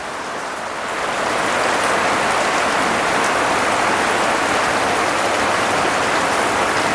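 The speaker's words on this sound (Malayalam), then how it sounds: "അല്ല പുറത്ത് മഴ വരുന്നുണ്ടോ ഭയങ്കര മഴയാണ്" Heavy rain pours down steadily, a dense continuous hiss of drops that swells after the first second and stays loud throughout.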